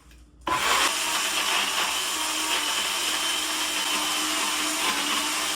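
A blender whirs loudly, blending cloves and garlic paste. The motor kicks in abruptly after a brief quiet moment, then holds a steady, harsh grinding roar close by for several seconds, with no talking.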